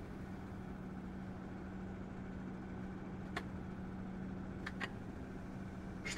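A farm vehicle engine idles while warming up in Farming Simulator 22, holding a steady low hum with a few faint clicks and a sharper knock at the end.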